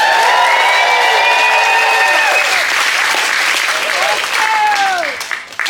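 A theatre crowd at a comedy show claps and cheers loudly, with whoops and shouts over sustained applause that tapers off toward the end.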